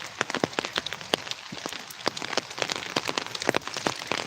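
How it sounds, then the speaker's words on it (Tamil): Steady rain in a small village after three days of downpour, a dense patter of drops hitting surfaces, continuous and fairly loud with sharper individual splashes, no voices. "மழை கண்டினியூவாக பார்த்தீங்கன்னா மூணு நாளாக வந்துகிட்டே இருக்கு"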